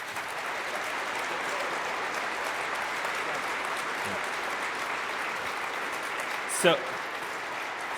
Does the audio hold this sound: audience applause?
yes